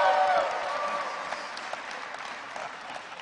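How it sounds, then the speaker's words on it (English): Applause from a crowd at a city State of the City address in Richmond, a dense steady patter of clapping that starts loud and continues evenly throughout. "Let's give them all a round of applause."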